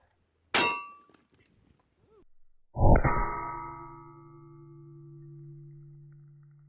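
A bullet strikes a steel Bush Hog mower blade, a sharp metallic crack followed by a second loud clang that rings on with a long, sustained metallic tone, alone and close.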